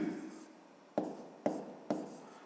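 Pen on paper during a math lesson: a soft scratching stroke, then three quick taps of writing, close and quiet.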